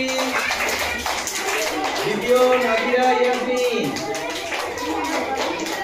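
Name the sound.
audience clapping at prize ceremony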